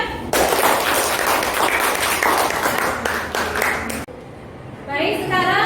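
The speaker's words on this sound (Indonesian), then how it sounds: "Kita berikan tepuk tangan." A classroom of students claps for a presentation group in a science lesson, dense steady applause that breaks off abruptly near the end and then picks up again briefly, with some voices mixed in.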